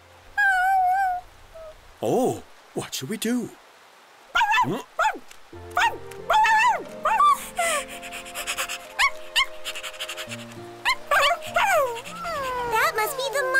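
A cartoon puppy whimpers and gives small high yips close by, in short bursts, while people talk over it and a soft tonal background plays.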